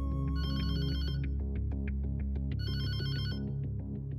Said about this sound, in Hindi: फोन किसका है जरा देखो।